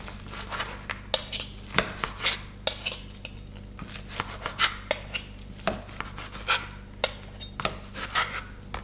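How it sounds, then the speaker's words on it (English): A knife slices grilled chicken breasts into strips for fajitas on a plate or board, with repeated short scraping strokes and light clinks of cutlery, close and fairly quiet. "chicken breasts are done, so I'm gonna go ahead and cut them up into little strips to put them in fajitas"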